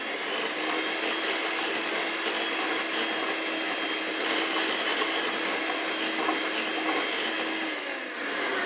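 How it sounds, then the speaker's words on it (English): Electric whisk whipping cream for no-churn ice cream, a steady close whirring buzz that runs continuously with slight changes in pitch as the cream thickens. "Really easy to over whisk cream when you get to this stage."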